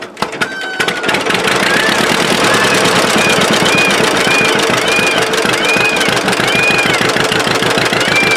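A 1937 John Deere B two-cylinder tractor engine runs steadily nearby, a loud rhythmic popping chug that settles into an even idle after starting up.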